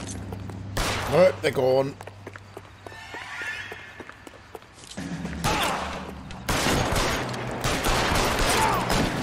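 Bursts of gunfire in the video game L.A. Noire during a chase, cracking in clusters midway and near the end, mixed with running and hoofbeat-like clatter while someone speaks briefly.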